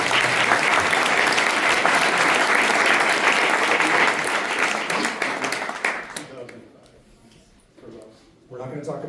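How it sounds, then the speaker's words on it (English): An audience applauds at a forum for a US congressional race. The clapping is loud and dense for about six seconds, then fades away, and a voice begins speaking afterward. "So I'm going to ask for some applause."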